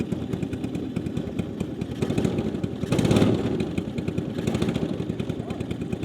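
A used Massimo mini jeep's gasoline engine starts and idles, a close, steady putter of rapid small-engine pulses that swells briefly partway through, with voices around it.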